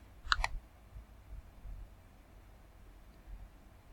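Two quick faint computer mouse clicks land close together near the start, followed by quiet room hiss with no talking.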